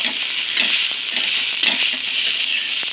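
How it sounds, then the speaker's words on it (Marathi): Green chillies frying in oil with garlic, coriander and cumin, a steady close sizzle with occasional stirring scrapes and crackles. "मस्त मिरच्या करून घ्या चांगल्या तेल टाकून लसूण मिरची कोथिंबीर जिरं"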